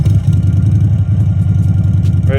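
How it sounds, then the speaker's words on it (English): Stock exhaust of an Indian Sport Chief V-twin motorcycle, a steady deep low rumble at idle, loud and close, with an even throbbing pulse and no talking. "I'll look at the Indian Chief stock exhaust."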